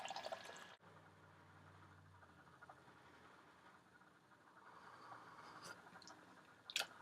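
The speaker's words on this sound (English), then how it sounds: "pour yourself a nice cup of coffee" Coffee poured from a French press into a cup makes a faint, steady liquid trickle after a soft thump near the start. No one speaks.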